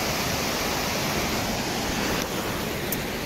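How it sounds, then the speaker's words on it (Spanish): A mountain waterfall near Balneario de Panticosa pours with a dense, steady roar of falling water that fills the whole scene without pause. "Mirad la cantidad de agua que cae,"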